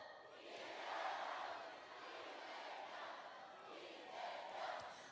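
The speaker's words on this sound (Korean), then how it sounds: "대구의 뜨거운 함성으로 이재명 3번 연호해 주시겠습니까?" A crowd at a presidential campaign rally in Daegu chants a candidate's name three times, distant and fairly faint, with rhythmic swells of many voices rising and falling.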